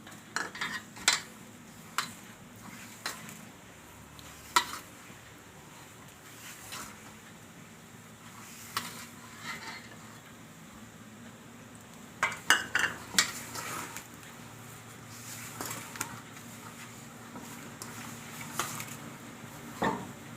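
Gulab jamun dough being kneaded with milk in a bowl, giving soft intermittent clicks and knocks against the bowl over a quiet steady background, with no talking.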